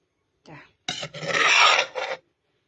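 Ingredients worked in a mortar with a pestle for a Thai spice paste: a short grinding rub, then a longer rasping scrape of stone on stone and a brief final stroke, close and loud.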